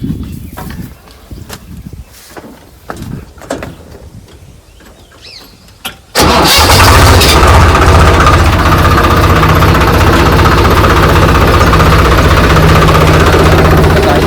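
A farm tractor on a village property cranks and catches after quiet rustling and clicks, then settles into a loud, steady, close diesel idle that runs on without pause.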